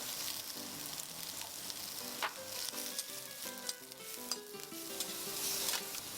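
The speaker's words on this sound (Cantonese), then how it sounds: "放入去個鑊嗰度炒佢大概2分鐘" Ginger slices, shallots, onion and garlic stir-fry in a hot wok for braised chicken wings, giving a steady, close sizzle with repeated scraping and clinking of the spatula against the metal throughout.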